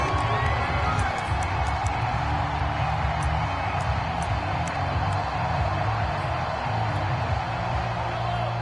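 Stadium crowd in a PS4 football video game, Chiefs on offense, a steady dense roar of cheering and whoops sustained throughout at even loudness, with no talk.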